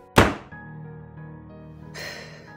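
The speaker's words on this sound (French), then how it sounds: "Et il claque la porte derrière lui." A door slams shut once with a sharp, heavy thunk close by, followed by a fading resonant ring and a quieter shuffle near the end.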